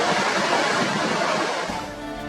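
Loud, roaring rush of the Panjkora River's churning waves, a dense continuous wash of white water close by that eases slightly near the end, with no voices.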